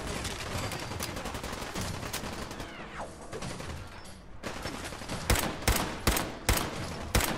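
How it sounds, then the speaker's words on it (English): Gunfire in the Fallout 4 video game: repeated sharp, loud shots in quick bursts, dense early on, a brief lull, then a run of heavy, evenly spaced close shots near the end. "Look at this, my bullets barely even damage this guy."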